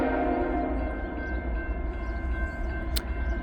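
A CSX freight train led by a GE Evolution (GEVO) locomotive approaches slowly at a road crossing in rain, its engine producing a steady low rumble with a constant tonal drone and a brief high squeal near the end.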